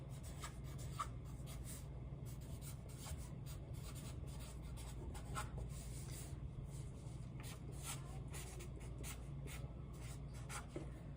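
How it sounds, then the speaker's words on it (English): Pen scratching steadily across paper while writing a message on a handmade popping-hearts Mother's Day card, a faint, close, continuous rubbing with short strokes and pauses, with no talk. "So I'm gonna write Happy Mother's Day."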